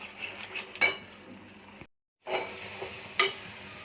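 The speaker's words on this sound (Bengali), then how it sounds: "তেলের মধ্যে জিরে, শুকনো লঙ্কা ফোড়ন দিয়ে দিয়েছি।" Cumin seeds and dried chillies sizzle in hot oil in a pan for a curry, a soft crackling fry punctuated by clinks of a spoon against metal, with a short silent gap midway.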